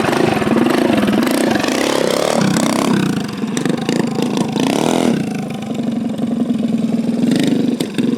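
A 420cc race bike engine runs loud and close, its idle wavering and rising unevenly in pitch, with fluttering revs rather than a steady tick-over.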